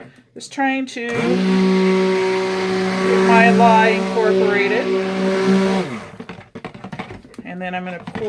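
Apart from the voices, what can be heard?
blender mixing lye into soap batter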